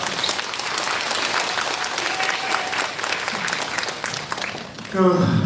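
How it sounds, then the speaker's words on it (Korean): Elderly participants at a community center job-training event applaud a local party chairman: steady, dense clapping from a crowd throughout, with a voice starting over it at the very end. "크게 박수 부탁드리겠습니다"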